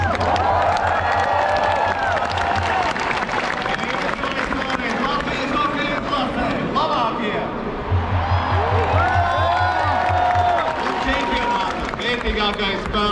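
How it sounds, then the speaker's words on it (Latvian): A large crowd claps and cheers loudly at a welcome event for Latvia's national ice hockey team in Riga, with an announcer speaking over the continuous applause. "Tādēļ ar vētrainiem aplausiem sagaidām Rīgas mērs Mārtiņš Staķis!"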